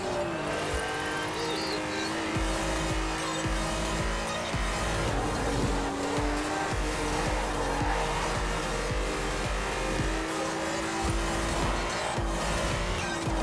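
A Golf 2 Rocketbunny in Forza Horizon 4 roars steadily with a loud, continuous engine drone, rising and falling with revs, with brief tire squeals mixed in.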